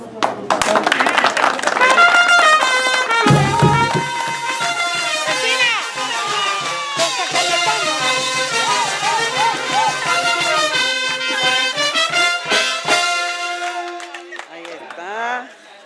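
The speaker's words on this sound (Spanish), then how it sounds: "Un fuerte voto de aplauso" A crowd at a patron saint festival in Peru claps and applauds over loud, tonal band music, a long, steady stretch that fades out near the end.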